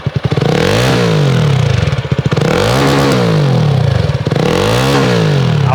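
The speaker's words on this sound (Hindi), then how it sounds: "भाई इतना सही एग्जॉस्ट आपने लगाया हुआ है, तो स्टार्ट करते हैं" A Jawa 42 FJ motorcycle fitted with an aftermarket free-flow exhaust revs hard three times in a row, each loud, throaty blip rising and falling back to a rumbling idle, close by.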